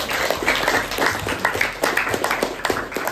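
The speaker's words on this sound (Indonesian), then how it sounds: "tepuk tangan untuk kita semuanya" Classroom of physics students clapping together, a brisk burst of dense hand claps that runs steadily for a few seconds at moderate loudness with no talk over it.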